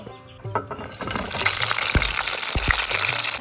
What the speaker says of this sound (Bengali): তেল গরম হয়ে গেছে কেটে রাখা পটলটা ভেজে নেব